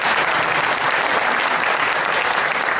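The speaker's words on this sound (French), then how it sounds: "vous pouvez vous applaudir." A concert audience at Salle Ibn Zeydoun applauding, a dense and loud continuous roar of many hands that holds steady throughout without any talking.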